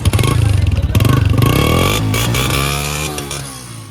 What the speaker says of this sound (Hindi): इंजन का साउंड कैसा है? टाइट है। थोड़ा सुनाओ उसका।